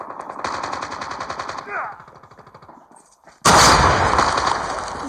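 Rapid automatic gunfire rattles in a Call of Duty match, a fast rhythmic burst that tapers off, then a sudden loud blast of heavier fire and noise. Talk carries on over the shooting.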